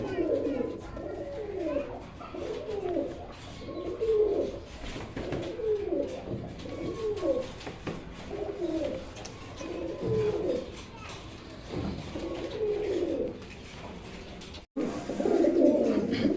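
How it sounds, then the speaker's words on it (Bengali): Pigeons coo in a steady run of repeated, throaty phrases, close and fairly loud, continuing almost without pause. "এখানে এক জোড়া কিং কবুতর দেখতে পাচ্ছেন"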